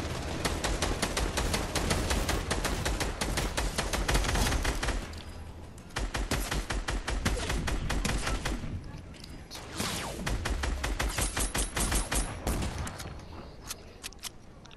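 Dense bursts of rapid gunfire from an online shooter game, loud and nearly continuous in long volleys with short pauses between, under occasional player talk.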